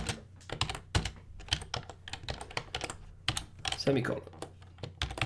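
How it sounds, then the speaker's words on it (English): Rapid, uneven clatter of code being typed on a computer keyboard, close and fairly loud, with someone talking over the keystrokes. "I didn't even finish typing"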